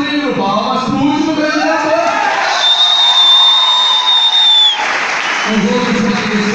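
Loud applause and cheering from the audience at a live comedy show, with whoops, a shrill whistle and shouting voices over continuous clapping that swells and then eases off.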